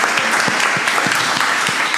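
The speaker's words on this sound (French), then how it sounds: "Applaudissez." A room of attendees at a regional health association meeting applauds steadily, a brief, even patter of many hands clapping with no voices over it.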